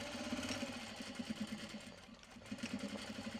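A domestic sewing machine stitches tote bag seams with repeated short bursts of rapid mechanical whirring and brief pauses for backstitching, steady and close, with no voices.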